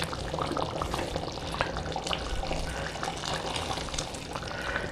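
Freshly boiled kettle water poured into a simmering mutton curd curry, a dense, continuous splashing and sizzling hiss, close and steady for the whole stretch, with no talking.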